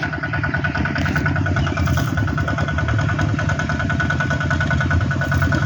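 A motorbike ridden by a girl along a road runs with a steady, close engine drone, its low putter holding an even pitch throughout with no talk over it.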